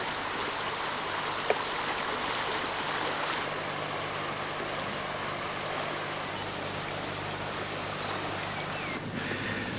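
The River Wyre flows past a beach on the Cardiganshire coast, a steady broadband rush of moving water heard close and continuous, with faint bird calls near the end.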